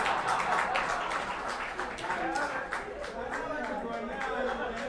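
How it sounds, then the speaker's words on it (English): Audience applause at a live team event, steady clapping and crowd noise throughout with a voice speaking over it. "Clap for them again."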